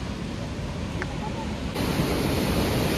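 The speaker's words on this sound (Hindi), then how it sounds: "मैं तुम्हें झरने का व्यू दिखाता हूँ और ये कितना डेंजरस झरना ये दिखाता हूँ" A roaring waterfall on the Kedarnath trek after the monsoon, a loud steady wash of broadband water noise with no break, getting slightly louder partway through.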